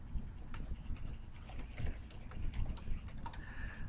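Typing on a computer keyboard, a run of close, quick, irregular key clicks over a low background hum.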